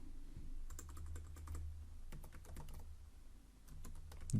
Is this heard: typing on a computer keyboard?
yes